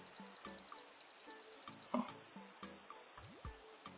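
A high electronic beep from a wall scanner detecting something inside a wall pulses rapidly about ten times, then merges into one continuous tone that holds for over a second before cutting off.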